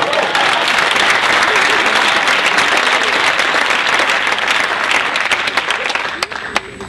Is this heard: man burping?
no